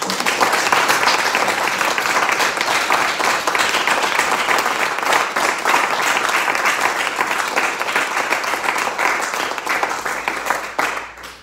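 An audience at a municipal address applauds loudly and steadily, a dense, unbroken wall of clapping that fades only slightly in the last moment.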